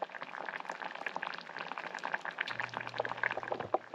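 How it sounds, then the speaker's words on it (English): Dried apricots simmer in white wine with a bay leaf in a small pan on the stove, giving a constant close bubbling and popping with no voices. "I have some apricots, dried apricots, simmering in some white wine"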